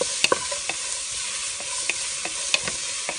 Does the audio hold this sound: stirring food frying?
yes